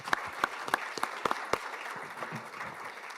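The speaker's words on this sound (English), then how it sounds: "let's give our panelists another round of applause" Applause for the panelists at a sustainable finance launch event in Ghana, opening with distinct, sharp nearby claps in an uneven rhythm that soften into a thinner, scattered patter as it fades.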